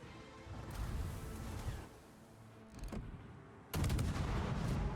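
Destroyer guns firing in World of Warships, a Khabarovsk tier 10 Soviet destroyer in the Sea of Fortune mode, heavy booming salvos with a rumbling tail, a burst around three seconds and a louder sustained barrage near the end.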